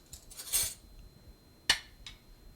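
A metal spoon is picked up and clinks brightly against a bowl of roasted butternut squash soup topped with melting Parmigiano: a few short, sharp chinks, close and clear against a quiet room.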